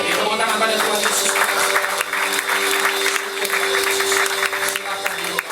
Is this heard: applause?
yes